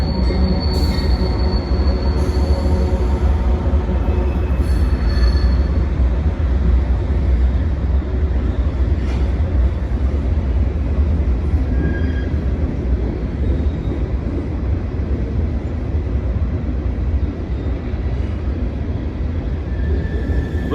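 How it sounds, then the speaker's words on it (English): Long coal train crossing a massive bridge between Kenova, West Virginia and South Point, Ohio: a loud, continuous rumble and rattle of rolling cars with faint wheel squeal throughout. "Train coming over the bridge."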